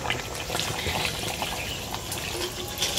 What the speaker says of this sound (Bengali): মাংস এবার কষানো হয়ে গেছে, জল গরম দিয়ে দেবো।